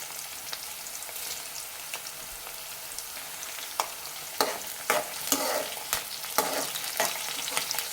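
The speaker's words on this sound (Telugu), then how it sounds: "ఆనియన్స్ పచ్చిమిర్చి అయితే ఇంకా వేగలేదు ఇలానే వేపుకోవాలి" Onions and green chillies fry in a pan with a steady, loud sizzle, while a spoon stirs them in scattered scrapes and knocks that grow busier toward the end.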